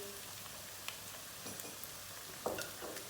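Peppers tip into a pan of softened onions and sauté with a steady soft sizzle, a few light clinks and stirring scrapes over it, and no talking.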